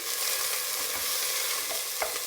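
Onions frying in a hot pan for a Bolognese sauce give a steady, close hiss of sizzling, with a couple of brief scraping stirs near the end.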